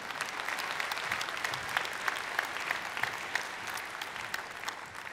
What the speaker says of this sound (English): let's give our families and our spouses and our friends a round of applause